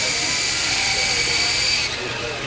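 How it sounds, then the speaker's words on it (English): A replacement camera helicopter model flies at Buffalo Days, giving off a continuous high-pitched whine that stays loud and steady, then drops slightly near the end. "This is our replacement model for our camera helicopter."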